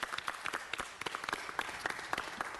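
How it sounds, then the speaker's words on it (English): Council chamber audience at a city council meeting gives a short round of applause, a quick patter of many hands clapping, fairly soft and somewhat distant. "Round of applause"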